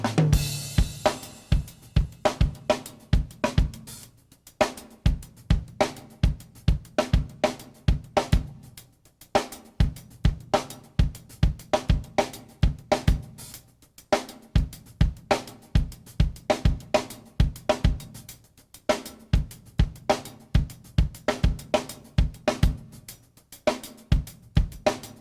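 A busy drum-kit groove in 4/4 played with two hi-hats split for a stereo effect, crisp hat strokes ticking steadily over punchy kick and snare hits, loud and close for the whole stretch with no talking.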